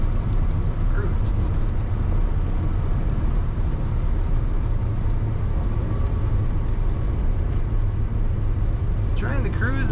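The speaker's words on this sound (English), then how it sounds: "Very nice running truck. Handles good in the corners, rides nicely." 1978 Chevrolet Silverado K10 pickup truck driving along, a steady low engine and road rumble heard from inside the cab, continuous and moderately loud with little change.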